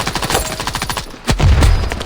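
Rapid automatic gunfire in an online shooter warm-up, a tight string of loud, close shots followed by a short pause and a heavier final burst, with no talking.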